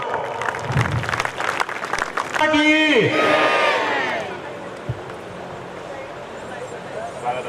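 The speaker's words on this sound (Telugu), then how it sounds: "అందరూ ఘనంగా చప్పట్లతో" A crowd at a Hindu gathering in Gangasthan, Nizamabad, claps loudly to welcome a swamiji onto the stage, with voices, a rising and falling tonal cry cutting through, and the applause fading under continued talk.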